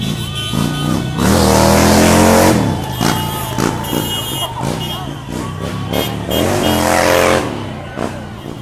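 Trucks and cars roll past in a protest convoy on a warm day, engines droning loud and close with rising revs and horn-like tones, while people talk nearby over the traffic.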